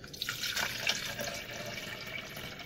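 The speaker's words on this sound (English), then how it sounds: "Dropping in some water." Water runs and splashes into a container for a vegan Oreo protein shake, a soft, steady pour heard close up with no talking.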